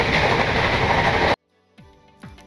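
The Saraighat Express on its Howrah to Guwahati run gives off a loud, continuous rail rumble and rattle that suddenly cuts off partway through. Softer tonal sounds follow.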